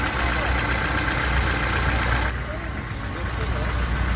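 A steady low engine rumble idles continuously, close and fairly loud, with a slight drop in level partway through.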